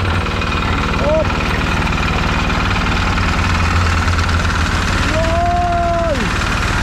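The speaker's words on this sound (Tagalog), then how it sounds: "Si Butong ang nagpapaikot ng makina" A mixing machine engine runs at a worksite, giving a loud, steady, close droning rumble with a fast low pulse throughout, while people talk over it.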